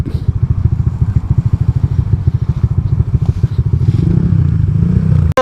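Motorcycles from an eagles club ride idle and putter close by, loud rapid engine pulses with some clatter, one engine rising in revs toward the end.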